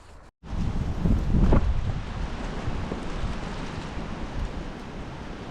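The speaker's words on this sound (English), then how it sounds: "All of a sudden the wind has really picked up." Strong March wind gusts outdoors near a cabin, a loud broadband roar with a brief dropout near the start, then a surge that eases into a steady rushing blow with no voices.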